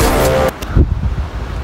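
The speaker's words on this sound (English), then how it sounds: "Sorry it's so windy though." Wind blows outdoors on the Munger Trail, gusting and buffeting the microphone in uneven, rumbling bursts after a brief moment of other sound at the start.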